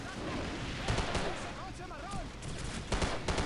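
Rapid gunfire crackles in Call of Duty 4: Modern Warfare, sharp repeated shots and bursts over a steady battlefield rumble, with a voice speaking over the combat.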